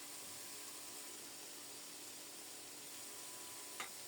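Vegetables fry in oil in a pan during home cooking, giving a faint, continuous, even sizzling hiss. A single small clink sounds near the end.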